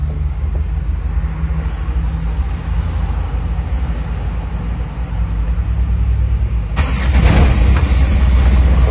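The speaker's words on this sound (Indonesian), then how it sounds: "Oke, nyala indikatornya dan kita coba starter." A truck's engine, troubled by a fault, cranks over on the starter with a steady low rumble, then catches and roars louder into a running idle near the end.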